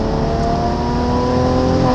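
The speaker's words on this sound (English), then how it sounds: "those overruns and barbles, man, this performance exhaust really changes this car" A 2017 Mercedes-AMG C43 Cabriolet with a performance exhaust, heard as a steady close engine drone with rough crackling overrun burble underneath, continuous through the short stretch with no talking.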